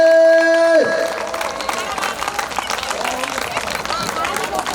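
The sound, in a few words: audience clapping, applause getting louder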